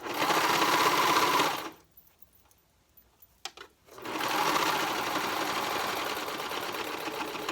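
A sewing machine stitching a romper runs in a steady, fast whir, stops briefly with a few small clicks, then starts again and keeps going for several seconds.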